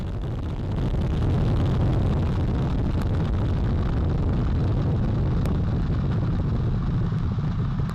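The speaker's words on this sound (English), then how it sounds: "Boosters in ignition. And liftoff of Artemis 1." The Artemis 1 rocket lifts off, its two solid rocket boosters and four RS-25 core-stage engines producing a continuous, heavy, low rumbling roar that swells in the first second and then holds steady and loud, heard from a distance with no talk.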